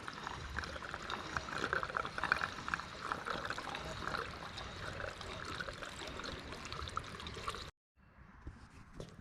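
Liquid pours from a small can through a Mr. Funnel fuel filter funnel, a steady close trickling stream running for several seconds, then cutting off briefly before a fainter dribble resumes.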